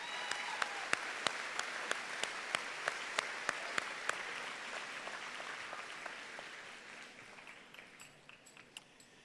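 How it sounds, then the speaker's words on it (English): A crowd at a graduation ceremony applauds a band and choir steadily, with a few sharp claps standing out at first, then the clapping gradually thins and fades. "how about a round of applause for that band and choir?"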